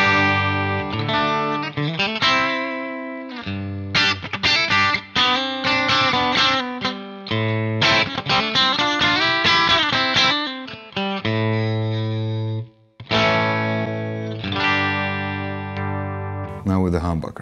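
Electric guitar played through the bridge single-coil pickup into an MXR Echoplex preamp, sustained chords and riffs ringing continuously and loud with a few short pauses, no talking.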